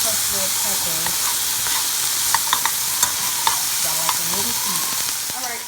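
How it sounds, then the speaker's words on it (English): Onions, peppers and pineapple sauté with crushed red pepper in a loud, constant sizzle close by, while a utensil taps and scrapes the pan in quick irregular strokes, without any voices. "Alright, my rice is done and my vegetables are sauteing."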